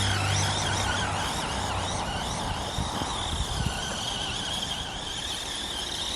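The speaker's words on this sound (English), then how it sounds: "I want to see how torquey this motor is" A small RC car fitted with an RXAZ 35T brushed motor drives through grass, its motor whining at a steady, high pitch that rises and falls slightly while grass brushes against it throughout.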